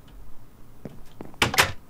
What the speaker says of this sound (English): the secret door is closed